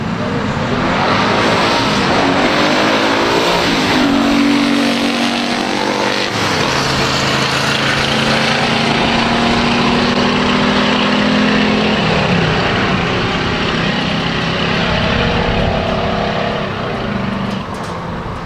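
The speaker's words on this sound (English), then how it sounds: "Thanks for checking out this drag race" Drag race cars accelerate with a loud, sustained engine roar that rises in pitch and holds near and constant for a long stretch, dominating the sound throughout.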